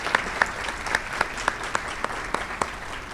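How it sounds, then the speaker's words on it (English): An audience at a university State of the Campus event gives light, sparse applause for a new executive secretary, with individual claps standing out and a low murmur underneath. "Let's give Jennifer a nice round of applause."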